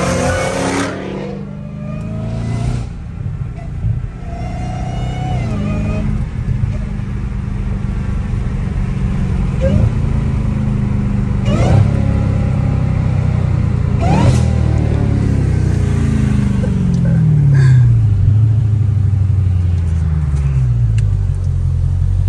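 Dodge Hellcat Redeye engine revving hard with rising supercharger whine, loud and close from inside the car, throttle swells and gear changes repeating, with brief voices now and then.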